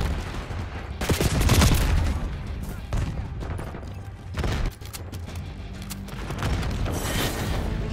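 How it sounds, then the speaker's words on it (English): Grenade blasts and bursts of gunfire from Call of Duty: Black Ops 6 multiplayer beta, loud and close, with several heavy booms and rapid volleys breaking through a busy battle din, and voices faintly mixed in. "Concussion going out. Tossing Sentex grenade."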